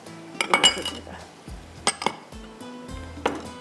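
A lid clatters onto a cooking pot during preparation of Hyderabadi egg pulao, a few metallic clinks and knocks of pots and utensils spaced over a few seconds, close and fairly loud.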